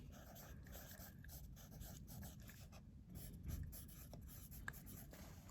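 A greater than symbol written on a line, giving faint scratchy pen or pencil strokes over a low steady background hum, with no talking.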